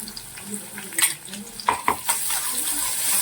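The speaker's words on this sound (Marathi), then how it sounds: "पूर्ण सारण आपल्याला परतून घ्यायचं आहे" Chopped small onion and green chili paste are sautéed as a filling in a pan, with a spatula scraping and several sharp metal clanks over a steady close sizzle. No one speaks.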